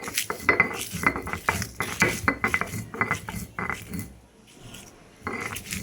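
Green chilies ground by hand on a sil-pata stone slab, close rhythmic knocking and scraping strokes in quick succession, pausing briefly before resuming.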